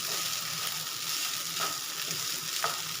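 Small steamed mini kozhukattai dumplings fry in a pan with a continuous bright sizzle and a couple of soft utensil taps, close and even in level, with no one speaking.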